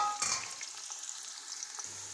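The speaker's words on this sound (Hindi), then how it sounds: "ये देखें, घी को हमने गरम कर लिए। अब हम इसमें प्याज डालेंगे।" Onions sizzle and fry in hot ghee for a dal dish, a steady crackling hiss with a brief stirring clatter near the start.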